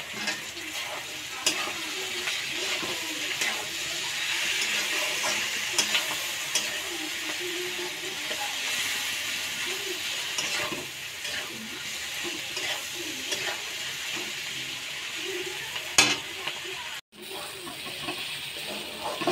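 Ingredients for egg chowmein stir-fry in a hot pan, a steady close sizzle with repeated scraping stirs and a few sharp utensil knocks throughout.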